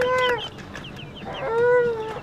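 A chicken clucks in a run of short, throaty calls, fairly close, with a brief pause before the calls pick up again.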